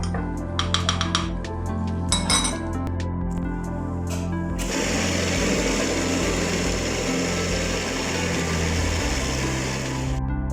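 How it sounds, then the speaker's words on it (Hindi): An electric blender whirs as it blends falsa berries with sugar, salt and water in a home kitchen, starting with short pulsed bursts before running steadily at a loud, high whine, close with no talk. "अब मैं इसको आपको ब्लेंड करके दिखाती हूँ।"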